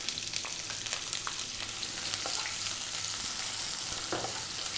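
Sliced onion fries in pungent oil in a pan, producing a loud, dense, continuous sizzle with small crackles and occasional stirring scrapes, no voices.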